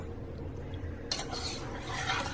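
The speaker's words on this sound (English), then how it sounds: "I will stir this until it begins to liquefy" Raspberries being stirred in a pot, with a spoon scraping and clinking against the metal and a soft sizzle that swells midway, close and quiet.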